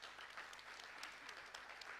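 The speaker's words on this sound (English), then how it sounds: "Can I ask for a big applause to our speakers?" A conference audience claps for a panel of speakers in a short, faint, continuous patter of applause with a few sharper individual claps standing out.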